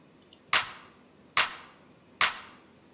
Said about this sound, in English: these claps which are following this offbeat pattern